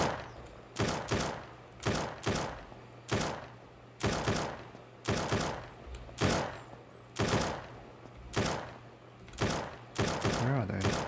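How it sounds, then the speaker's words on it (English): Sharp gunshots in the video game SurrounDead crack in an irregular series of single and double bursts, close and punchy, with a low hum underneath. "hearing gunfire is more scary than hearing the noise of zombies"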